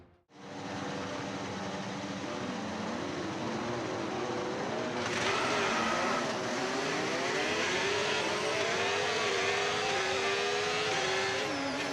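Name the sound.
F1 race cars on formation lap, video game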